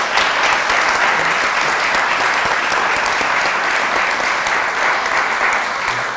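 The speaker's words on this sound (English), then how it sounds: "Give her a round of applause again, man." A morning-show studio audience breaks into sustained applause, a full, even roar of clapping from many hands that stays loud and steady for about six seconds.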